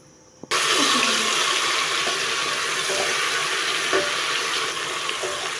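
Masala frying and being stirred in a pan for a spicy liver curry, a steady loud hiss of sizzling oil that starts abruptly, with occasional soft scrapes and clinks of the spoon.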